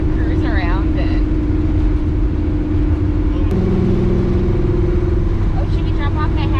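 A Chevrolet Nova cruises along with a steady low engine drone and tire rumble, the engine tone shifting pitch midway, while people talk over it inside the car.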